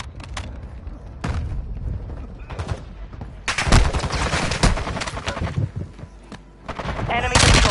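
Rapid bursts of automatic gunfire in the video game Call of Duty Warzone, loud and close, with dense rattling volleys, short pauses and radio-style game voice lines mixed in.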